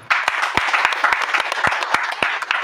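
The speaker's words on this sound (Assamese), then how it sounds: "জোৰকে তালি বজাই দিয়া" A church congregation claps loudly in rhythmic unison, sharp hand claps in a steady beat of about three per second over crowd noise, close and loud.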